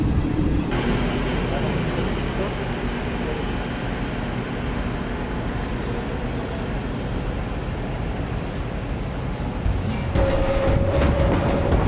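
A passenger train on the CoochBehar to Siliguri Junction line runs through the Mahananda sanctuary forest, giving a loud, continuous rumble heard from on board, with a brief tonal whine near the end.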